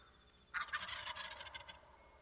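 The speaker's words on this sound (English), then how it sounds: "The gobble is a sound that the male or the tom emits to attract hens" A male wild turkey gobbles once, a rapid rattling burst that starts abruptly and trails off, heard alone against a quiet background.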